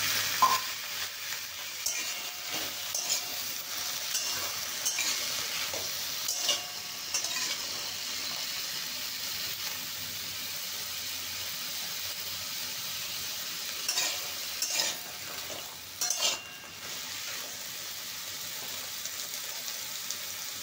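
Steady sizzling of mixed vegetables, potatoes and green peas frying in a wok, with occasional stirring scrapes, close and continuous without any talking.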